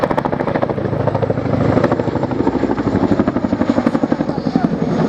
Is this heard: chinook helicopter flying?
yes